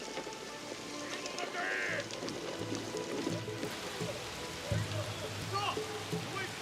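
Steady rain falls in the video game Assassin's Creed Shadows, a dense patter on surfaces with a few heavier drips, while voices speak over it.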